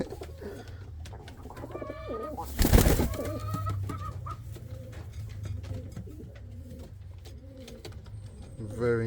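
Pigeons coo repeatedly at close range in a breeding loft, soft throaty calls layered over steady low background hum, with a brief louder burst of noise partway through.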